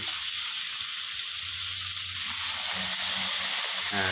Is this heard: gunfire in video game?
no